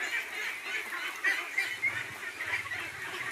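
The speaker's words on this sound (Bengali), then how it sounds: "আমার এখানে প্রায় 2000-এর মতো হাঁস আছে যারা নিতে চান।" Khaki Campbell ducks on a farm of about two thousand birds quack and honk in a busy, overlapping chorus, steady and fairly close, with a few louder calls standing out.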